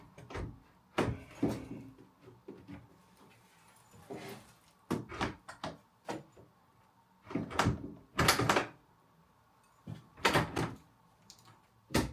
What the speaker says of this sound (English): make sure all the spacing was right and the doors were closing as they should